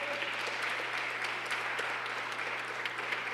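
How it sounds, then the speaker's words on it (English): A city council audience claps steadily, a faint, even patter of applause with a low electrical hum running beneath it. "let's give her a round of applause if we could, Judge Monet Scott."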